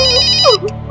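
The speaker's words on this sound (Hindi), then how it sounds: "अरे सही मौके पे फोन आया जी आपका" An electronic phone ringtone plays loudly and close for about a second as a call comes in, its bright repeating tones steady, then breaking into a short warbling flourish.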